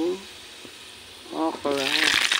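Garlic browning in a hot pan breaks into a loud, bright sizzle as okra goes in for a mixed-vegetable sauté, following a quieter stretch with a voice talking close by.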